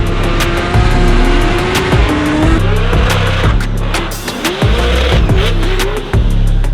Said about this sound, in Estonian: siin on nüüd üks auto, mida pole varem Euroopas nähtud väga driftimas